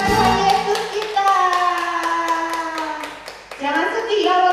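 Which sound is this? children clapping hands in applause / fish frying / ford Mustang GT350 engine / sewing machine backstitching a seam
children clapping hands in applause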